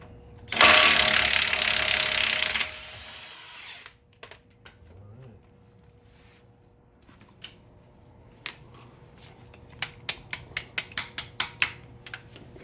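Ratchet clicking while loosening a rear shock bolt on a 1995 SVT Cobra coupe, a burst of loud broadband noise early on, then sparse clicks and a fast run of sharp close ratchet clicks near the end, no talk.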